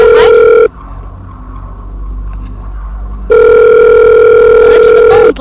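A telephone rings loudly in a video game: a bright, electronic ring sounds, breaks into a quiet pause, then starts again and stops near the end.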